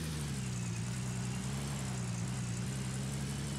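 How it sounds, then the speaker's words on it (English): A vehicle engine idles steadily in the Gold Rush video game, a constant low rumbling drone that stays even throughout with no other sounds. "Go ahead and start the engine."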